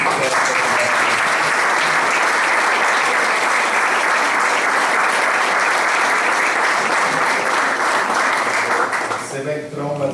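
Sustained audience applause at a Portuguese Red Cross delegation's leadership inauguration ceremony, dense, steady clapping filling nearly ten seconds before tapering slightly at the end.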